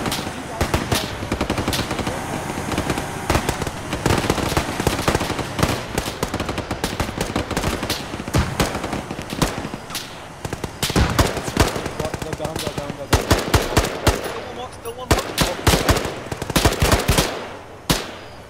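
Sustained machine gun fire in the military shooter game Arma 3, dense rapid bursts of loud, sharp reports running almost continuously, with short gaps between volleys and occasional voices underneath.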